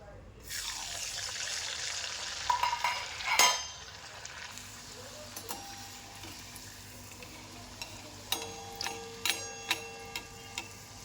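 Chakli, a spiral fasting-day snack, dropped into medium-hot oil, with a loud hiss as it goes in, a few clattering handling sounds, then a softer steady bubbling sizzle with light taps near the end.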